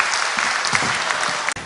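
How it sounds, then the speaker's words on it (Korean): Vigorous audience applause welcoming Mrs. Lee Yang-jin, speaker on biblical geography, a dense even burst of clapping that stops abruptly at the end. "이 시간 우리 이양진 사모님 나오실 때 힘찬 박수로 환영하시면 감사하겠습니다"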